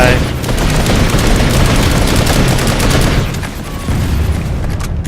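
Rapid automatic gunfire in the online shooter Planetside 2, a dense, loud, continuous barrage with a brief dip before resuming, layered with distant booms of battle.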